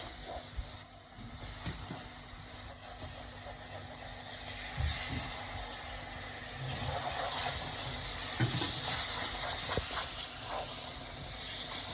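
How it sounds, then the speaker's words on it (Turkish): Flour halva being stirred fast in a hot pan as syrup is worked in, giving a steady loud hiss and sizzle with scraping strokes throughout, no talking. "hızlı hızlı karıştırıyorum. Bu aşamada sıçrayabilir."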